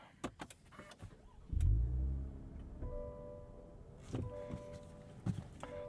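Cabin of a 2020 Cadillac CT5-V as its 3.0-liter twin-turbo V6 starts: a few clicks, then a heavy low crank and flare settling into a quieter steady idle with light clunks.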